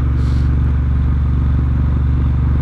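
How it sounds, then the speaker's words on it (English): Triumph Bobber motorcycle cruising slowly with traffic, a steady, close, low engine thrum with an even pulsing beat, loud and unchanging throughout. "you can cruise around like I'm doing now. I'm not going very fast, I'm just sitting with the traffic"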